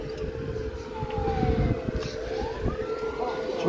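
Fire engine siren wailing near a burning parked car, the rising and falling tone sweeping steadily over loud rumbling street noise and low chatter.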